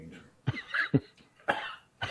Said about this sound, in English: Oh, he's coughing.